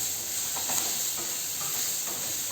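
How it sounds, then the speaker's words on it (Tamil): Cashews and coriander leaves sauté in a pan for a green gram gravy, an even close sizzle broken by soft scraping stirs, with no talking. "இதையும் பாருங்கள் ஒரு 2 நிமிஷம் நல்லா வதக்கி விட்டுறலாங்க"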